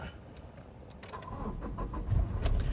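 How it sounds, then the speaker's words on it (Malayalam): A Toyota Crysta diesel engine is started, with a click and brief crank before the motor catches and settles into a low, building idle rumble, recorded close with faint jingling beforehand. "വണ്ടി സ്റ്റാർട്ടായിട്ടുണ്ട് കേട്ടോ"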